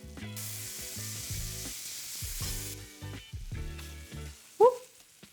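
Arepas hit a hot skillet with a loud, bright sizzle that swells early and then eases into a steady crackle beneath background music, ending with a sharp pop near the close.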